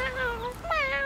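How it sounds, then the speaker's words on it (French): High, wavering kitten meows from a cartoon, two drawn-out cries close by with a short gap between them. "Regarde, c'est un tout petit chat."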